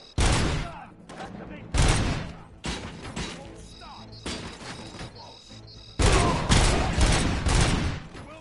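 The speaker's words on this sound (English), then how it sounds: "Am I hearing gunshots?" Bursts of rapid gunfire crackle in several volleys in the video game Robocop: Rogue City, loud and close, with quieter gaps and distant shots between them.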